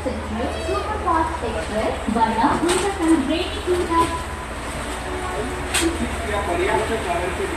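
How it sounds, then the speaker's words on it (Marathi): The 12163 Mumbai LTT–Chennai Express pulls away from the station, heard from inside a 3A coach. A low, steady rail rumble runs beneath nearby voices talking throughout. "हे सुटली हां ट्रेन"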